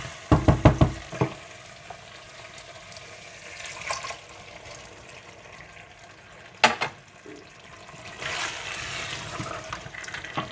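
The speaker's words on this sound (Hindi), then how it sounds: "जब मटन अच्छा सा भुन जाए तो आप इसमें भीगी हुई खुबानियाँ पानी समेत डालकर मिला लें।" Soaked apricots and their water are poured into fried mutton in a pot, starting with a burst of splashing clatter, then a soft sizzle and bubbling, with a few scraping stirs later on.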